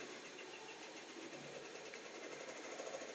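An embroidery machine stitches out a design on beanies and hoodies, giving a steady, fast, continuous mechanical whir that stays close and even throughout with no pauses.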